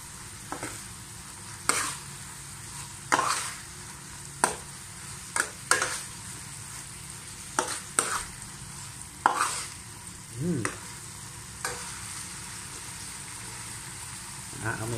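Alamang (tiny shrimp paste) sautéing in a pan with chili flakes: a steady crackling sizzle broken by repeated sharp scrapes and clanks of a utensil stirring, close and fairly loud, with no talk.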